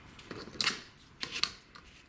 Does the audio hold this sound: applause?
no